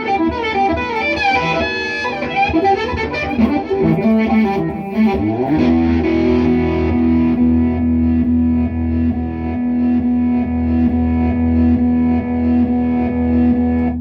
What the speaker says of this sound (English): We're going to not hear the attack of the original note, just the reverse phrase.